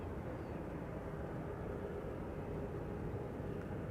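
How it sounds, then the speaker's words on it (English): A Singapore Airlines Airbus A350 jet approaching at Amsterdam Schiphol Airport gives a steady, broad roar that stays even and unbroken throughout, heard from a distance, with no voices. "Singapore Airlines A350 coming this way"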